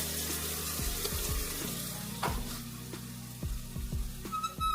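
Ginger garlic paste frying with browned onions in a pan, a soft, steady sizzle with a few sharp knocks and scrapes of a stirring spoon, close and moderately quiet.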